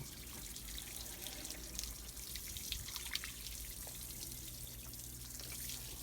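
Water from a hose or tap splashes and trickles steadily over a motorcycle during a rinse after cleaning, a continuous close wash of spray and drips with no talking.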